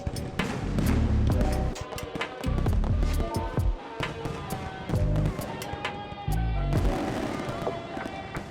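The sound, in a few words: fireworks show at Waikiki Beach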